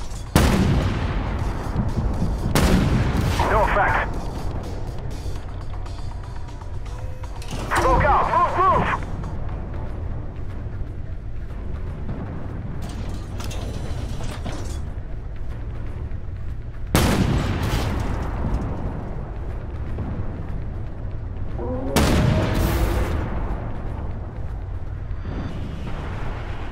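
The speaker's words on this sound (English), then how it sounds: "Requesting fire support." Video game artillery fire support and gunfire: several heavy booming blasts and bursts of shooting recur every few seconds over a steady rumbling battlefield background.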